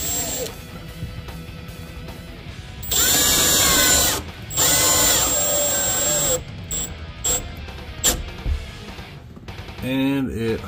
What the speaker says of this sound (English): do a little bit of pre-drilling, and then making sure that you have everything lined up